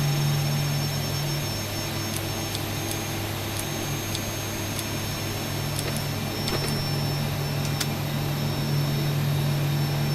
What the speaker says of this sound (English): I can start on engine 1.